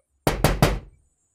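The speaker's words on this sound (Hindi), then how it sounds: "दरवाज़ा नॉक करा" Three quick, firm knocks on a door sound close and distinct, followed by a short decay into silence.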